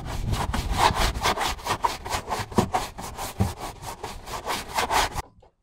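A stiff brush scrubs a car's wheel arch back and forth in quick, regular strokes, a raspy rubbing sound repeated about a dozen times before stopping.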